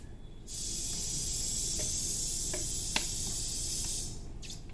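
99% rubbing alcohol sprayed over freshly poured soap, a continuous close hiss lasting about three and a half seconds, with faint clicks under it and a brief second spurt at the end.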